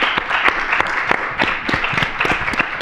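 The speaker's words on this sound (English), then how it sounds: "give each other a round of applause" Applause from a fairly small group at an architecture symposium, a loud close patter with distinct sharp individual claps standing out against the crowd, steady throughout without speech.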